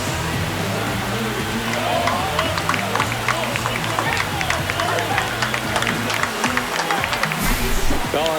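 Stadium crowd in MLB The Show 25 roars steadily after a home run in a Diamondbacks versus Giants game, a dense continuous cheer with scattered claps under broadcast commentary.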